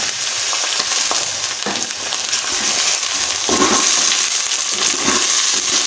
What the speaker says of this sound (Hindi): तीन से 4 मिनट हमने इसको ऐसे ही भूनना है ऑयल में